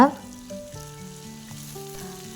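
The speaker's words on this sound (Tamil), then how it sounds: "அடுப்பை மீடியம் ஃப்ளேமில் வச்சு எல்லாத்தையும் வணக்கிக்கோங்க" Shallots and eggplant sautéing in oil over a medium flame for a garlic-oil eggplant curry, a steady soft sizzle with faint stirring scrapes, close and without talking.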